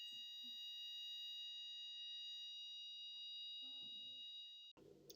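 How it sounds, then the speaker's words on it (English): A building fire alarm sounds continuously in a steady, piercing electronic tone, with faint background movement beneath it before it cuts off abruptly near the end. "Fire alarm just went off"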